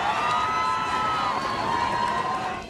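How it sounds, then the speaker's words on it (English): A large outdoor crowd in Ireland cheers for Pope Francis, a loud, continuous roar of many voices with shrill whistles and shouts running throughout. "thousands greeting the Pope with cheers"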